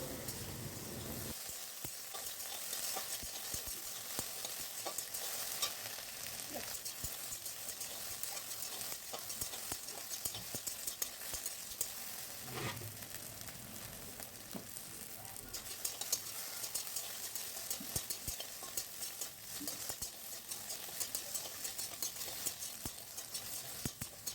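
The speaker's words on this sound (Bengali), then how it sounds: "ঢেঁড়সটা মোটামুটি দুই তিন মিনিট টাইম ধরে একটু ভালো মতো ভেজে নেব" Chopped okra frying in a pan, a steady soft sizzle with occasional stirring scrapes, fairly quiet and continuous, no voices.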